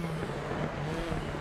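A Citroen C4 rally car engine in Dirt Rally 2.0 runs on a Monte Carlo stage, a steady close engine hum with road and tyre noise filling the short stretch, with no voices.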